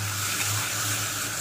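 Mustard seeds, curry leaves and chillies sizzle in hot oil for a cucumber raita tempering, a short, even crackling hiss with no pauses.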